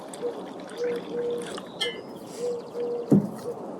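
Water trickles and pours steadily into a container of instant mashed potato flakes, with a soft splashing dribble and a brief clunk near the end.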